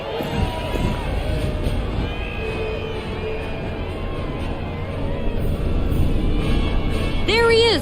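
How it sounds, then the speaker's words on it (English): A large crowd roars at the new president's parade in Final Fantasy VII Rebirth, a loud, steady wash of cheering and babble with vehicle rumble beneath. "Can you even hear me over this crowd?"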